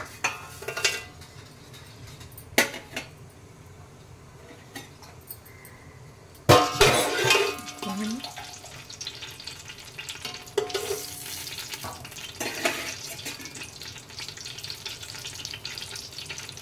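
Whole cardamom, cinnamon sticks and marathi moggu drop into hot oil in a pot for egg biryani, a soft frying hiss marked by clinks and bangs of utensils and one loud rattling clatter midway.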